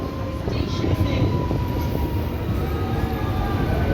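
A train rumbles past close by, with a heavy low roar and faint rhythmic rattling of wheels on track, steady throughout.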